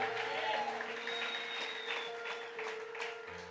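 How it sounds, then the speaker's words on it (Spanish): Church congregation applauding for the Lord, a faint, sustained round of crowd clapping with a steady tone held beneath it. "¿Cuántos les dan un aplauso al Señor?"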